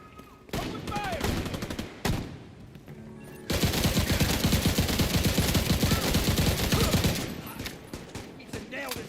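Intense sustained automatic gunfire in The Division 2, dense rapid bursts building to a long continuous barrage with explosions, loud and close, with brief shouting.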